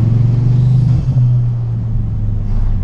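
A deep, steady Ford Focus ST225 engine rumble idling close by, with a low drone that wavers slightly partway through.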